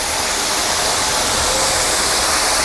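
Waterfall in the hills of Munnar, a loud, constant roar of rushing water with no variation and no voices.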